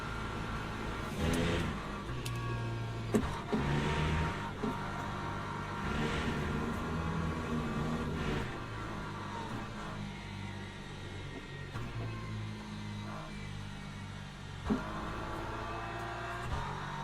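Race car engines in the Le Mans Ultimate racing game at Paul Ricard, a steady sustained drone that rises and falls with gear changes and throttle, loud and continuous throughout.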